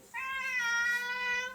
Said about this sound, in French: Il y a quoi le chat?